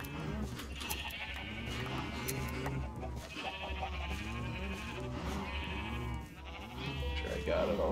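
Minecraft sheep bleat repeatedly while their wool is sheared in the video game, several wavering bleats spread across the clip over a steady low background, with a voice speaking at times.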